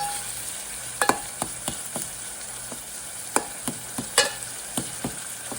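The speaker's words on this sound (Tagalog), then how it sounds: "So, niluluto na yung ating mga lamas." Spices frying in a pan during home cooking of a Filipino dish with coconut milk and vegetables, a steady sizzle broken by sharp, irregular scrapes and clacks of stirring, close and fairly quiet with no talking.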